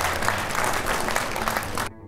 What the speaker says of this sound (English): let's give a nice round of applause to Willie Ridley and Ted's Towing